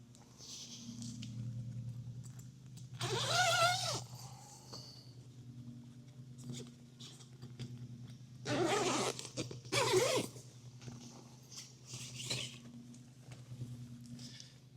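A zipper rasps open on the rain-soaked door of a Coleman Instant Tent 4P in a couple of short bursts, close and fairly quiet against a low steady background hum.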